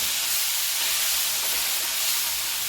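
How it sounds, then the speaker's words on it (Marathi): Papdi green beans stir-frying in a hot pan over steam, a loud steady hiss and sizzle with no break and no voices. "पहा पहा अगदी छान अशी शेंगी परतली जात आहे"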